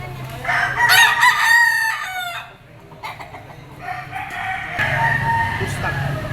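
A yellow-legged pumpkin sweater gamefowl bull stag crows loudly and close by in two drawn-out calls, with a brief pause and some clucking between them.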